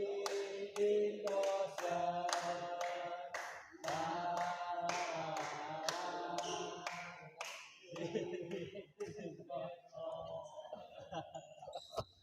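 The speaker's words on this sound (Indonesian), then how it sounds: "Ternyata ada yel-yelnya juga ini untuk Bos Didin Dozer ya." Spectators at a Sampoerna Cup 2024 local-class match chant a rhythmic cheer for player Bos Didin Dozer, voices shouting in unison over steady clapping beats, loud and close, with the pattern loosening toward the end.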